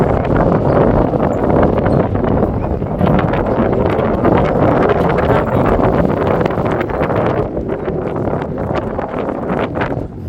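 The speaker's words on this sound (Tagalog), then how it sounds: "hangin." Strong wind at Mont Saint-Michel, France, buffets the microphone in a loud, continuous roar with gusty fluctuations and faint rustling underneath.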